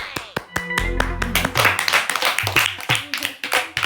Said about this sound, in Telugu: వెరీ గుడ్ సిల్కీ, క్లాప్స్ కొట్టండి రా